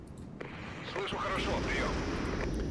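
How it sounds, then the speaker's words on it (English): A rocket artillery strike in the video game Regiments rumbles as a low, building roar of distant impacts and blasts, with someone talking over it. "And let's call up some rockets."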